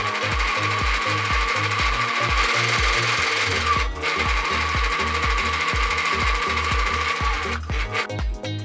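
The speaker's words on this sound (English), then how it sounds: "I'm going to sew a straight stitch all the way to the other end of my fabric" A sewing machine runs a straight stitch along fabric from one end to the other, its needle thumping in a steady fast rhythm, loud and close, alone without talk, slowing briefly near the end.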